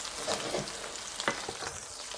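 Homemade fries fry in oil with a continuous bubbling sizzle, close and even, with a few soft knocks and clicks from moving them around.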